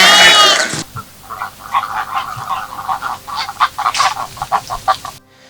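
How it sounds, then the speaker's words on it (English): Ducks on a coffee plantation farm quacking in a loose flock, a run of short nasal calls at uneven intervals after a brief opening burst, moderately close with no talk over them. "Now the ducks, we call them the scavengers"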